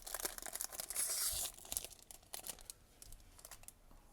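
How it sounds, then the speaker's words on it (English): A foil Panini 2024 football card pack is ripped open: quiet, close crinkling and tearing of the wrapper in several ragged pulls, with rustling that fades toward the end. "we're going to rip into some trick-or-treating cards from Panini"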